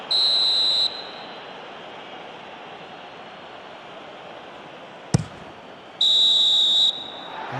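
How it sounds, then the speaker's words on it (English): Short referee whistle blasts in a eFootball PES 2021 match between Ivory Coast and Norway signal half-time, one near the start and another a few seconds later, shrill and steady above a low stadium crowd murmur. "There's the whistle for half-time."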